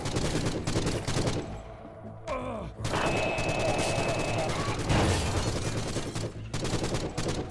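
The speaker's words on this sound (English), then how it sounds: "Dude, the Tommy gun's so fucking cool." Tommy gun fire in the first-person horror shooter Forgive Me Father, dense bursts of automatic shots running nearly throughout, mixed with game sounds and a brief pause midway.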